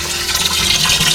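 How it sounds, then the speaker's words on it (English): Water gushes from a pipe at high pressure in East Portland, a loud, close, continuous rushing spray with bright hiss and no break, with no talking. "Water pressure high."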